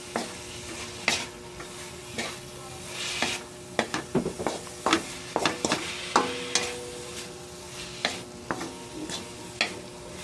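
Sautéed vegetables stirred into Filipino shrimp paste (ginisang alamang) in a pan, with repeated scraping and clattering strokes of the spatula over a soft, steady sizzle, close and fairly quiet.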